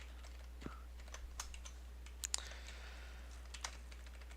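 Typing on a computer keyboard, scattered quiet key clicks in small irregular bursts over a low steady hum, with no talk.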